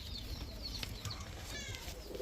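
A pair of Pakistani jaldar pigeons at a pigeon seller's, soft cooing mixed with wing flutters and other bird calls close by, with a light background hum and no talk.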